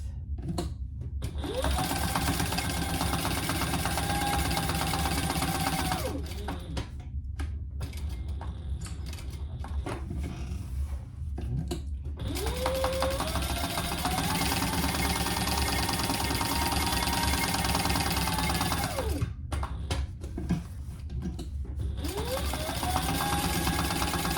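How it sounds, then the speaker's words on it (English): A sewing machine stitches the three sides of a handbag in long continuous runs, its rapid mechanical hum steady and close, pausing briefly twice between seams before starting up again. "And then we'll sew those 3 sides."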